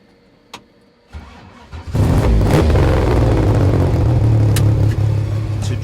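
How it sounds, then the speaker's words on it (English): An MG Metro 6R4 Group B rallycross car's mid-mounted 3-litre V6 is started after a couple of clicks, catching at about two seconds and settling into a loud, rough, steady idle with low rumble up close. "they produced a 3-litre V6 engine, 4-wheel drive, mid-engined, to compete at world level"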